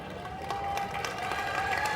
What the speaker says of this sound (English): You're clapping at all my problems, huh?